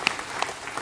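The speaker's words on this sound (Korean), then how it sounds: "박수를 하나님께 드리겠습니다" Church congregation at a Korean Sunday worship service clapping in praise to God, a brief, soft patter of scattered claps.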